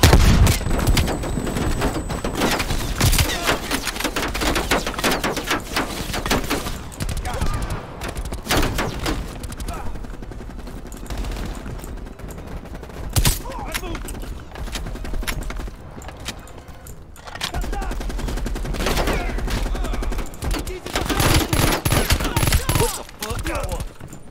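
Renetti pistol fire in Call of Duty: Cold War, with rapid bursts of loud, sharp shots and other in-game gunfire popping through a busy match, broken by short gaps.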